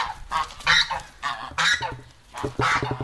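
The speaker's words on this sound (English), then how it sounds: "Oh wow, check this out. Some geese out back." Several geese out behind an old petrol station honk repeatedly in loud, close, rhythmic bursts, overlapping calls rising and falling without any talk.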